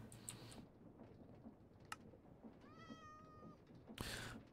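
One faint, drawn-out cat meow from a Minecraft Cave Factory modpack game sounds amid a dense, noisy background, with brief clicks and bursts of hiss around it.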